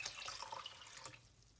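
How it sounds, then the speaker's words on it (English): Water pours off rinsed lentils and splashes steadily into a sink, a soft trickling sound that tapers off toward the end, with no voices. "We're going to drain off the water that's in there."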